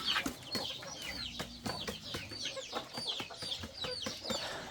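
Chickens clucking steadily at a rural Lao farmyard during cold-season morning feeding, many birds close by with overlapping cackles and short calls, no talking.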